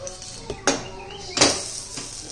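A stuffed idli being flipped in a pan brings a couple of short metallic scrapes and clinks of a spatula against the pan. Two clear bursts stand out over a low, steady kitchen background.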